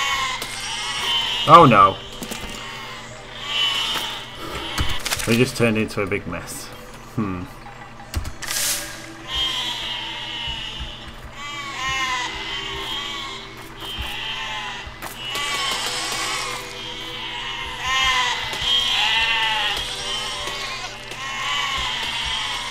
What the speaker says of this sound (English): Killing all the sheep, killing all the sheep.